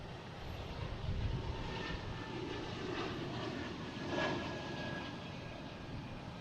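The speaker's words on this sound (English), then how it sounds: "There we go, Lufthansa A340 300. I believe this is the Star Alliance livery coming in from Frankfurt." A Lufthansa Airbus A340-300 four-engine airliner arriving at Boston Logan from Frankfurt makes a fairly faint, distant engine drone that rises and falls in gentle swells, with no speech.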